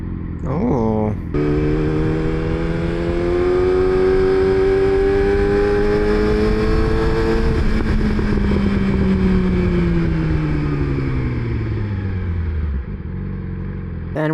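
Motorcycle being ridden on a new setup that is still being broken in: the engine note rises through a long pull, holds, then falls away as it slows, loud and continuous with wind noise and no speech.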